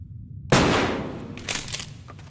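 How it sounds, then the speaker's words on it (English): A single sharp gunshot fired in a VR horror game, a sudden loud burst followed by a decaying tail with faint game sounds after it. "What happens if I was to shoot from here?"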